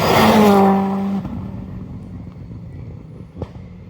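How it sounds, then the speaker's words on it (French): A turbocharged rally car at a rally event in Saint Germain la Campagne, a loud close engine roar that quickly fades away, with a sharp knock near the end. "Ah, le turbo il est en forme"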